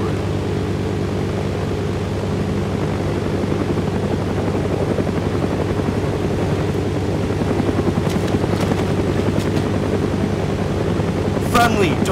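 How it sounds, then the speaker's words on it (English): A helicopter in the video game DayZ drones steadily with a loud, continuous rotor and engine roar, near and unbroken throughout, with a little game noise near the end. "there's a helicopter."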